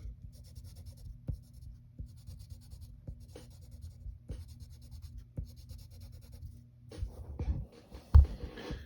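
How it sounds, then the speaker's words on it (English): A pencil or marker shades in the bolts on a drawing of Lightning McQueen, producing soft, steady scratchy strokes up close, in short repeated bursts, ending with a louder tap. "And then you're going to shade in his bolts."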